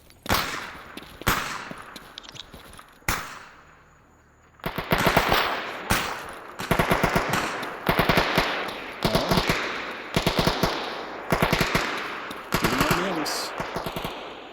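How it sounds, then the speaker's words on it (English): Automatic gunfire in the video game Stalker Anomaly, rapid loud bursts of rounds repeating in quick sequences after an earlier scattering of single shots, close and dominant, with game ambience beneath. "Matter of fact, I think it's shooting at me."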